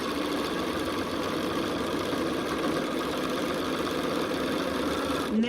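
A home sewing machine running steadily while stitching quilt blocks, a continuous close motor hum with a rapid needle rhythm. It holds even through the clip and ends in a brief shift at the end.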